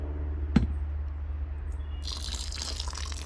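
Water poured from a pot onto seed starting mix, beginning with a brief clink, then a soft, steady trickling splash that sets in partway through and continues faintly to the end.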